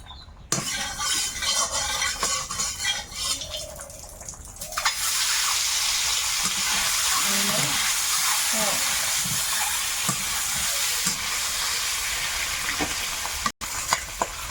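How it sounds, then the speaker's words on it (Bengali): An egg frying in oil in a wok, starting as quiet stirring and then breaking into a loud, steady sizzle and spitting hiss close by that lasts until the end. "কড়াইয়ে আবার একটু তেল দিলাম এবারে ডিমটা ভাজবো"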